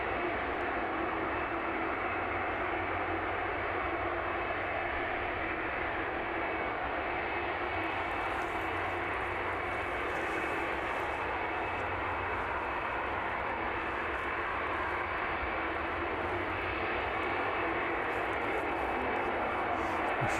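An airliner is taking off or landing at East Midlands airport. A loud, steady engine roar holds throughout with no breaks, and a voice is faintly heard under it.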